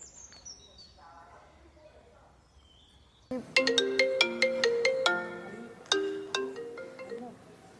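A phone ringtone plays during a call: a loud, bright melodic tune of repeated chiming notes that begins abruptly partway through, preceded by quieter background sounds.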